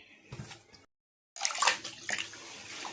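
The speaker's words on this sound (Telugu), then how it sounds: "గిన్నెలో వేసి నీట్గా నీళ్ళు పోసి కడిగి పెట్టుకుందాం." Soaked rice being washed by hand in a bowl of water for Andhra ariselu, giving close sloshing and splashing water sounds that break off briefly and then return louder and busier.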